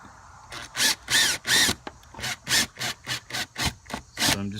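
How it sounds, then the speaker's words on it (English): A screw gun fires in short repeated bursts while driving screws into an outer shell, about a dozen sharp whirring pulses of uneven length with brief pauses between them, close and loud. "So get them close with the screw gun."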